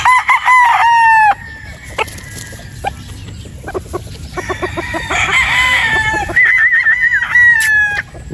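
A young gamefowl broodstag crows close by in a farm setting, two drawn-out crows with clucking and other fowl calls in between, loud and clear against the yard.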